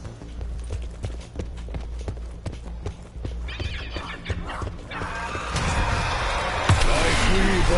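Steady hoofbeats clip-clop at a trot for several seconds, then a horse whinnies as other louder sounds rise and swell.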